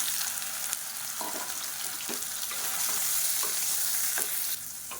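Soaked, squeezed soya chunks fry in hot oil in a home kitchen, a loud continuous sizzle broken by the scrape and clatter of a spoon stirring against the pan every second or so.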